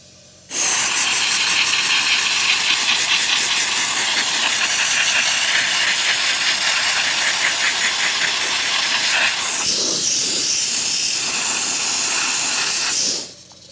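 Loud, steady hiss from a leak on a running Honda CL350 motorcycle engine in a garage, broadband and continuous for about nine seconds before the tone shifts and the noise cuts off abruptly.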